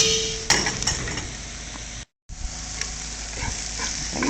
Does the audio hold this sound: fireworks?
no